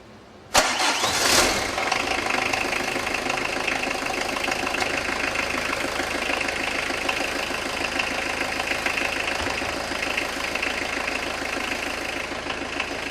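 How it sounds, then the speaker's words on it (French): A 1.9 turbo diesel car engine cranks and fires up after a timing belt replacement, then settles into a steady, loud, clattering diesel idle that runs alone and close for the rest of the clip. "Mettons le moteur en route."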